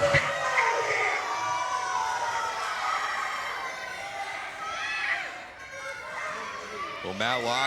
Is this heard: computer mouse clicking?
no